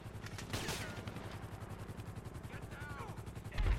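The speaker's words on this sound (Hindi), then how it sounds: "कितने बड़े बड़े धमाके हो रहे हैं" Continuous loud rumbling gunfire and explosions in GTA 5, dense and chaotic, with a heavier boom at the end.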